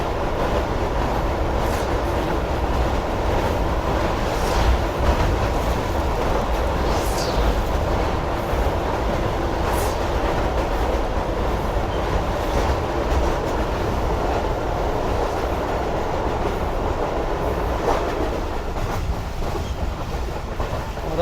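A train on the Rehman Baba Express runs steadily along the rails, its continuous rumble carrying rhythmic clickety-clack wheel beats and occasional faint squeals, loud and close from on board, with no talk.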